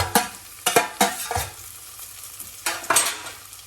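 Sliced leek goes into a hot pot for a vegetable velouté, making short bursts of sizzle broken by sharp utensil clanks and scraping as it is stirred, close and with no talking.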